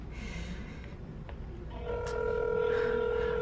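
Phone keypad tones beeping in short steps, followed by a steady ringback tone as a call to a Popeyes fried chicken restaurant connects, heard over a constant background hum.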